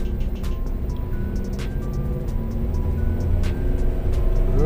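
A manual car's engine hums steadily while driving at a gentle throttle during a lesson, a low continuous drone that builds slightly louder toward the end with no talk over it.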